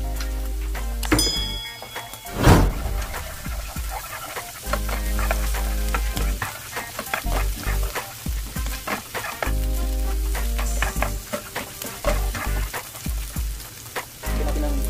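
Shrimp and crab paste fry in a pan for crab-fat fried rice, giving a loud, steady sizzle broken by frequent stirring scrapes and clinks throughout, with a sharp burst near the start.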